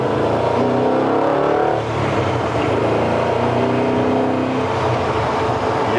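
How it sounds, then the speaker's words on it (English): A 1972 Chevrolet C10 pro-touring pickup revs loudly with a deep, throaty exhaust rumble, the pitch rising and falling as the throttle is worked, close by. "Right now, the exhaust note's probably my favorite."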